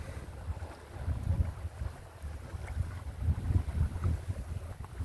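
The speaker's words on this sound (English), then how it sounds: "Some nice downwind tacking here in the gap between Parker Island" A sailboat tacking downwind through a channel between islands, with steady wind buffeting and rushing water against the hull, a fairly loud continuous wash and no voices.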